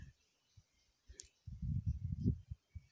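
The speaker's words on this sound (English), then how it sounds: "I'll click on this X to close it." A single sharp tap on an Android phone screen to close an ad pops out faintly, followed by low rumbling handling noise and scattered soft knocks.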